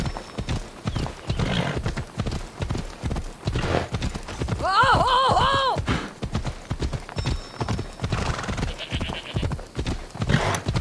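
Rhythmic clip-clop of hooves at a steady trot in Assassin's Creed Odyssey, with a horse whinnying loudly midway and people talking over it.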